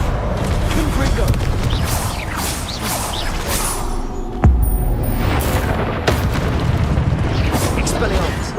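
Confringo blasting spell explosions in Hogwarts Legacy, a dense clash of booms and magical whooshes with a sharp blast near the middle, under ongoing combat sounds and voices.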